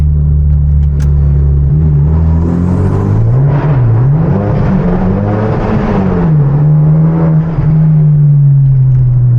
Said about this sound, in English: We're gonna rev through on second gear.